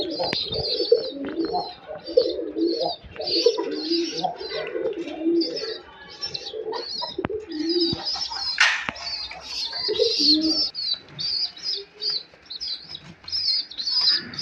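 Domestic pigeons coo in repeated soft, throaty calls, with bursts of wing flapping and light chirps, close and continuous throughout.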